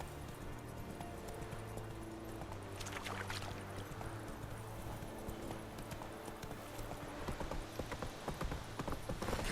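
Hoofbeats of Roach, a horse in The Witcher 3 game, clatter in a steady galloping clip-clop, loud and close over a continuous low musical and ambient bed.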